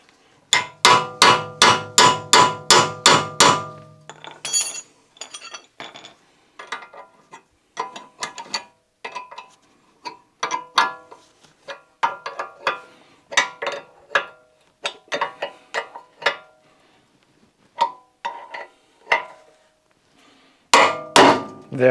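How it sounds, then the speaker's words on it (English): Metal hammer strikes on a ball joint splitter during suspension work on a Rover 216i, a rapid burst of sharp ringing blows followed by scattered irregular clanks and taps, then another quick flurry. "And then I hope to be able to use my ball joint splitter."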